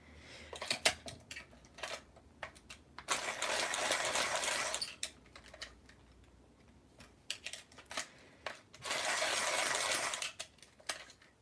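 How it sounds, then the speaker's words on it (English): A noisy pencil sharpener whirs in two sustained bursts of several seconds each during a colouring session, between scattered clicks, taps and small knocks of pencils and objects on a table, fairly close with no talking. "it's so noisy, that sharpener"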